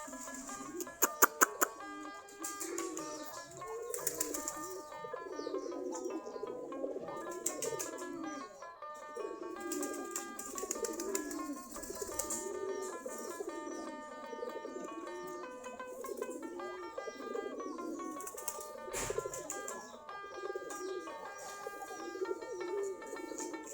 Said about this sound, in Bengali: শীতের সকাল কবুতরগুলা খোপের কাছে বসে আছে গিরিবাস কবুতর